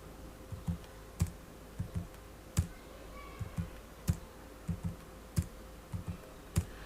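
Rapid keystrokes on a computer keyboard entering random marks into school management software, sharp clicks in quick irregular clusters, close and fairly quiet, with no one talking.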